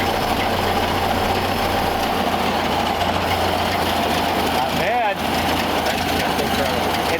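A 1931 Ford Model A coupe's engine idles roughly with a steady low chugging drone at moderate distance, a brief squeak near the end.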